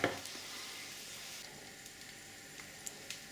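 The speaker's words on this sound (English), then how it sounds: "With our frying pan, we've been frying away and the meat's getting quite crispy." Ox cheek meat fries in a frying pan, giving a faint, steady sizzling hiss with a few small pops and crackles and no talking.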